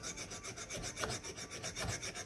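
A straight razor bevel is ground on an aggressive diamond-topped stone, making a steady close scraping rasp with rhythmic strokes and no speech.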